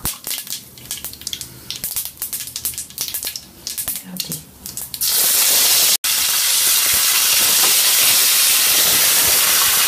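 Curry leaves and coriander hit hot tempering oil for a tomato and red chilli chutney, bursting into a loud, steady steam-like hiss that starts halfway through and stays intense, after a quieter stretch of clatter and faint voice.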